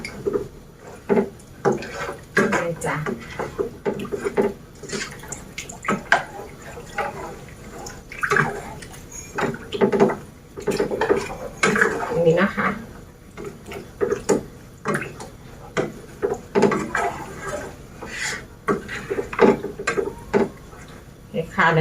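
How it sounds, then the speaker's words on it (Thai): Cooking pots for braised pork trotters in vinegar are moved and handled on a gas stove, with repeated close metal clanks and knocks, some water sloshing, and someone talking now and then. "เดี๋ยวเราจะย้ายหม้อกันนะคะ"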